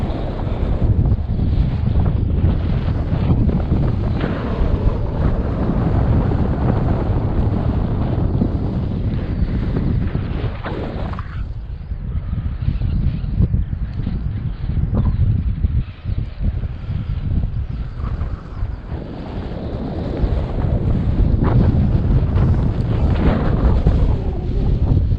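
Strong wind buffets a microphone on an open hill slope, a steady loud roar with gusty swells and a brief lull midway.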